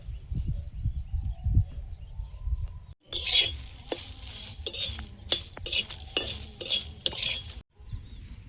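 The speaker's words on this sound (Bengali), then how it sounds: "শুকনো লঙ্কা প্রথমে কড়াইতে দিয়ে দেব" A metal spatula scrapes and clinks around a wok while dry red chillies and bay leaves are stirred in it. A low, muffled rumble comes first, then a run of brisk, close scraping and clinking strokes.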